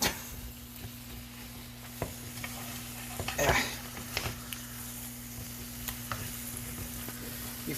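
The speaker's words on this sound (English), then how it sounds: "Make sure to flip your steaks from time to time." Steaks sizzle in a pan over a campfire, a steady frying hiss with scattered clinks and scrapes as they are turned, with no voices and a faint constant hum underneath.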